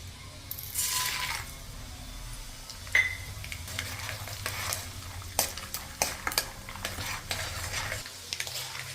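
Quiet sizzling of oil in a pan with chana dal, cumin and mustard seeds, and repeated clinks and scrapes of a utensil stirring against the metal.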